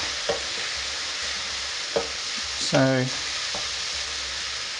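Vegetables for a paella fry and sizzle in oil as they are stirred in the pan, a steady hiss with a few soft scrapes and one brief clatter of a utensil partway through, heard close.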